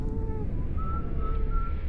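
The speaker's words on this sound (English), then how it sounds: "the whistling becoming louder" Eerie whistling in a horror narration, a few thin sustained whistled tones drifting over a low rumbling background, fairly close and clear.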